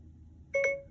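A brief electronic chime sounds from an iPhone as Siri is activated: after a faint hum comes a single clear, bright tonal beep that fades within a fraction of a second.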